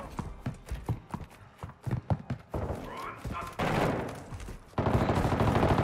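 Gunfire in Call of Duty: Modern Warfare II, a run of sharp shots in rapid bursts, then denser sustained firing and loud noisy blasts toward the end, with voices talking over it.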